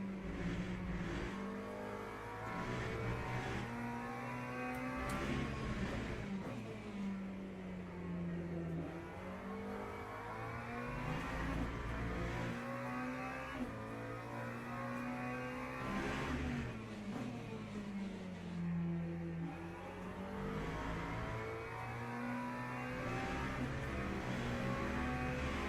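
McLaren race car engine in the racing game Le Mans Ultimate on the Qatar circuit, revving steadily with rising and falling pitch sweeps as it accelerates and shifts through gears, loud and continuous throughout.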